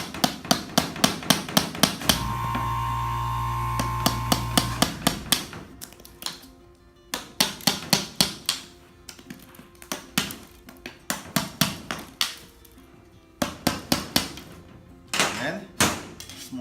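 A hammer cracks open the hard shell of an emperor chicken in a long series of sharp, close knocks, some in quick bursts and others spaced out, with a steady tone holding briefly in the middle.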